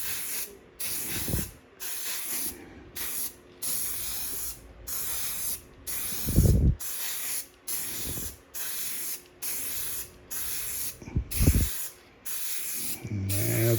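Triple Thick clear glaze coat sprayed from an aerosol can in a series of steady hissing bursts separated by short pauses, fairly close, with a few dull knocks and handling thumps between passes.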